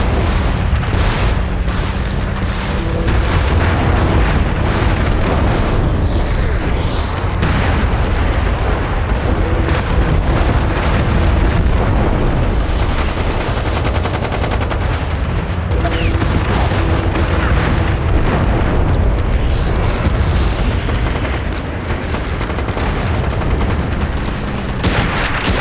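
Artillery barrage in the video game MAG: a sustained, loud rumble of overlapping explosions and booms, with scattered gunfire crackling through the dense wall of blasts.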